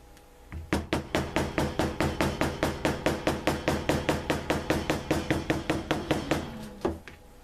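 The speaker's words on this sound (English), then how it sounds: "Next step is to take my little hammer" A small hammer taps steadily on leather, flattening punched stitch holes, about thirty quick, evenly spaced strikes, close and sharp, with no talking.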